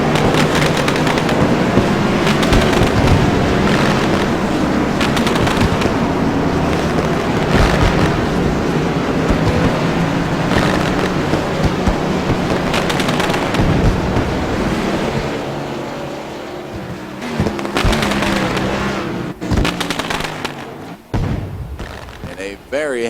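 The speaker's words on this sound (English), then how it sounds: "Celebratory fireworks from the backstretch in the air." Celebratory fireworks over the backstretch of Richmond International Raceway after a race, a dense run of booms and crackles mixed with wind and crowd roar, with an announcer talking over it.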